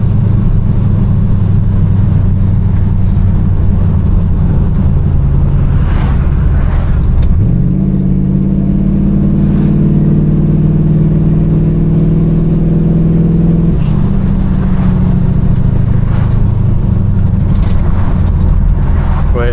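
A 1967 Chevelle's engine drones steadily while driving, a low rumbling hum that shifts pitch partway through as it pulls, loud and continuous with no talking.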